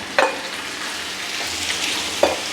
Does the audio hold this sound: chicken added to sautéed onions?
yes